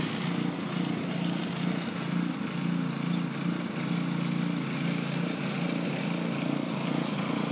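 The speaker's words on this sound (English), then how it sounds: "like a 21 inch walk behind mower" Walk-behind lawn dethatcher running outdoors in a front yard, a steady droning engine with an even rumble that holds constant throughout, no voices.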